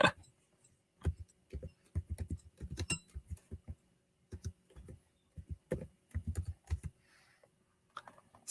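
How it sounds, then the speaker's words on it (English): Someone types on a computer keyboard nearby, producing clear irregular bursts of key clicks separated by brief pauses, with no talking. "I'm a terrible typer."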